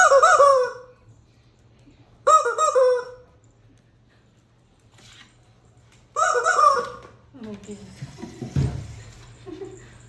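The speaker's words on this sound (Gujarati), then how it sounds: "આ કોનો મરઘો? આ કૂકો કોનો છે?" Three loud rooster crows spaced a few seconds apart, followed by soft rustling and handling noise.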